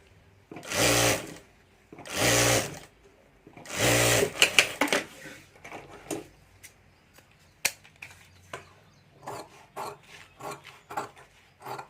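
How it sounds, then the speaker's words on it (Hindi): Sewing machine stitching a zip onto a handbag: three short loud runs of rapid needle clatter close by, followed by scattered quieter clicks and handling taps as the fabric is adjusted. "यहाँ हमें इस तरह से जिप रख कर ऊपर सिलाई कर देनी है"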